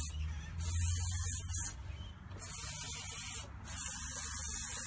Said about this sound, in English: So I get plenty of silicone lubricant in that.